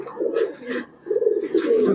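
Racing pigeons at a pigeon shop give two low, rolling coos close by, separated by a short pause, with little else around them.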